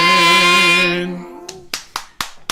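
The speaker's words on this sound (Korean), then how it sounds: "박수 감사합니다" A few sharp, separate hand claps ring out at a church Christmas service, starting just after a sustained sung or organ chord fades, then sounding one after another in a loose, uneven rhythm.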